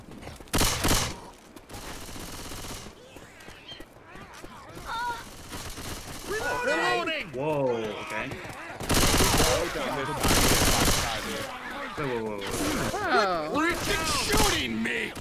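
Rapid bursts of automatic gunfire from the Left 4 Dead video game, loud and repeated in clusters, with several voices shouting and talking over the shooting.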